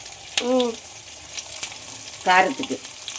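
Garlic sautés in a hot kadai with a steady low sizzle and occasional stirring clinks, while short bits of speech rise briefly over the cooking.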